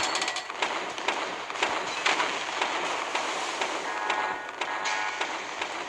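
Secondary guns on the French battleship Bretagne fire in the naval warfare game Naval Creed, a dense crackling run of rapid small blasts over a steady background roar, with no speech.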